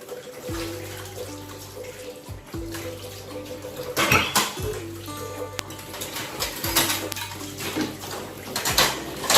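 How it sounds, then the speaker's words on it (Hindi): Dishes being washed by hand in a home kitchen with running tap water, a steady splashing flow with clinks and clatters of utensils and pots, close and continuous, with no talk. "मैं यहाँ पे बर्तन धो लूँगी"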